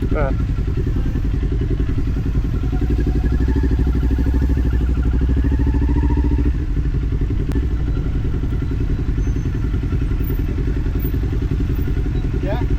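A motorcycle engine drones steadily through its exhaust during low-speed U-turn training on a track, loud and continuous with a slight change in pitch midway, while an instructor talks over it.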